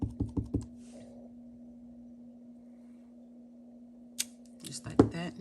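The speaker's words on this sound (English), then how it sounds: "And I'm gonna stamp this sun." A rubber stamp presses a sun image onto paper in a paper-crafting project, heard as a few soft taps and clicks near the end after a quiet stretch, with a faint steady hum throughout.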